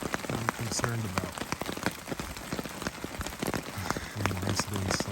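Rain patters steadily on a hammock rain fly during a winter night on the Appalachian Trail at Roan Mountain, dense close drips and taps with occasional heavier splats.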